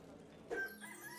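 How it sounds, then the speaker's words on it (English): A rooster crows once, a brief close call lasting under a second, in the comedic video game Sir Whoopass: Immortal Death, heard over a low game background. "Cock-a-doodle-doo!"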